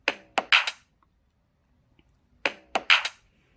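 A sparse electronic drum pattern from a GarageBand drum sequencer, with sharp, crisp snare hits in two short clusters separated by silence.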